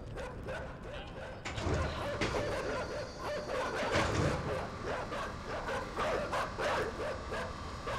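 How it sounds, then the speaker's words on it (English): Dogs in the video game Inside bark and yip repeatedly in sharp bursts, some whimpering among them, loud and close amid dense game noise. "Oh dear, the dogs."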